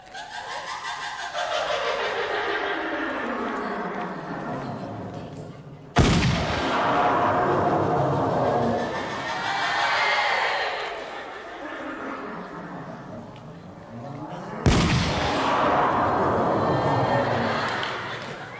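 Two sharp gunshot blasts ring out in a Matrix parody comedy sketch on a Thai game show, each followed by a long sweeping whoosh, with people talking and laughing throughout.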